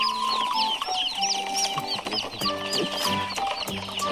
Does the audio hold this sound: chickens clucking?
yes